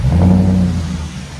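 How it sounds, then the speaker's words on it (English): An Audi S4 V8 with a stick shift revs inside a shop, a loud, close blip that swells and then drops away over about a second. "V8 stick shift."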